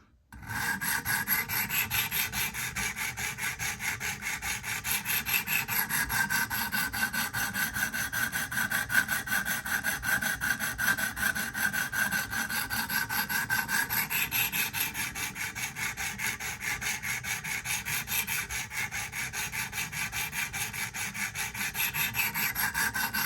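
Steel knife blade, a Sebenza clone, stroked on a sharpening stone in a steady rasping back-and-forth rhythm, close and continuous throughout with no talking.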